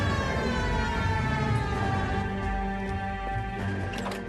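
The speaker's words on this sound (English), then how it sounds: "Okay, we were hitting the siren." A police car siren in the L.A. Noire video game wails loud and continuous, holding steady tones in the foreground with no voices over it.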